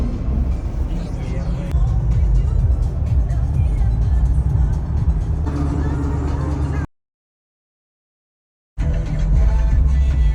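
A car drives along, heard from inside the cabin as a steady low engine and road rumble, broken by a couple of seconds of total silence before the hum resumes.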